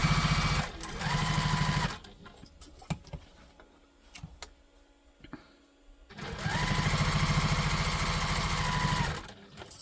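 A sewing machine runs steadily while basting the side gusset of a tote bag, with one long loud run of stitching, a quieter pause with light handling clicks, then a second sustained run.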